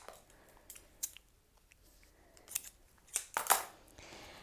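Scissors snip through elastic for a ballet pointe shoe, with a handful of short, crisp cuts spread unevenly across a quiet room.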